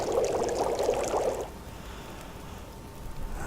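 Water pours and bubbles in The Long Dark video game, a loud watery rush for about a second and a half that drops to a steady, softer hiss.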